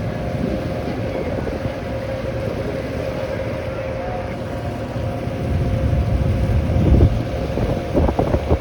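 Passenger ferry launch on the Hooghly river in Kolkata, between Howrah and Bagbazar, running with a steady low engine drone, water wash and wind buffeting the microphone, with a few louder knocks near the end.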